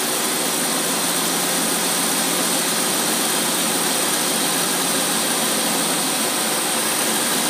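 A car engine idles slightly rich on a Holley carburetor, a steady, loud, unbroken rumble and rush heard up close with no voices.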